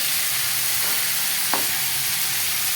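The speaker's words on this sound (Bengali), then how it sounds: "কাঁচা লঙ্কাটা দিয়ে কিছুক্ষণ এটা নাড়াচাড়া করতে হবে।" Green chillies stir-frying in a pan of chowmein with tomato, a steady faint sizzle with one brief scrape of stirring near the middle.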